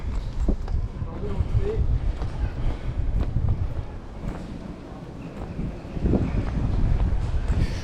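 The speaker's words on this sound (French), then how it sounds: "Le vent se lève" Gusty wind buffeting the microphone in rough low rumbles, rising and dipping, with faint background sounds outdoors in Toruń, Poland, ahead of a big storm.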